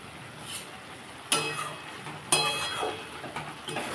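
Cabbage curry with red lentils sautéed in a pan, a soft sizzle broken by a few sharp scrapes and clinks of a spatula against the metal, spaced irregularly and close by.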